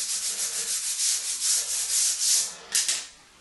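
Simple Green cleaner being rubbed into tile grout, a soft rhythmic scrubbing swish repeating close by in even strokes, with a brief louder scrape near the end.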